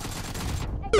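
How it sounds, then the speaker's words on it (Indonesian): A short, loud burst of rapid gunfire from the mobile battle-royale game PUBG Mobile cuts in with a hard onset and lasts only a moment. "mau ditembak dari atas Bad Boy cuy"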